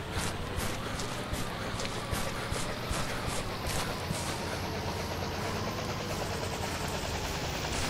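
An EMT helicopter in the video game City Life RPG 2 gives off a steady, loud rotor whir and engine roar that runs continuously without pause and without any talking.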